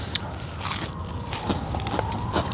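Someone bites into a crunchy breaded chicken cutlet fresh from the pan, giving faint close crackling crunches scattered through a steady low background noise.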